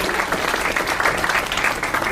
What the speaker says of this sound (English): Let's give Nate a round of applause